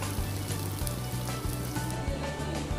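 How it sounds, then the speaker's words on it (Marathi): Vegetable balls fry in oil in an appe pan, a dense, steady sizzle heard up close, with a low pulsing hum running beneath it. "त्यानंतर आपल्या घरात जे अप्पे पात्र असतं ना, तर त्यामध्ये आपण तेल सोडणार आहोत थोडं, आणि त्यामध्ये हे बॉल्स आपण व्यवस्थित फ्राय करून घेणार आहोत।"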